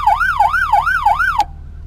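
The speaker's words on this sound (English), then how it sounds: "yelp" Yelp siren on a 1994 Australian Ford EF Falcon GLi police car: loud, rapid rising-and-falling warble cycling about five times in under one and a half seconds, then cut off sharply, leaving a faint steady tone and low rumble.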